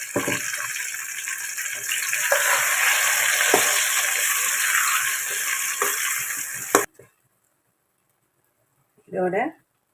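Ground spice paste frying in oil in a pan for a Chennai-style oil eggplant curry, sizzling loudly and steadily with scraping stirs, then stopping abruptly; a brief voice sounds near the end.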